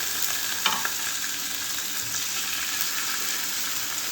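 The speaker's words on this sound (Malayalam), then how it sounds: "ഇതിലോട്ട് ബീഫ് ഫ്രൈ ചെയ്യാൻ വെക്കാം" Beef frying in butter or olive oil in a pan for an English breakfast: a continuous, even sizzle heard up close, with one small clink early on.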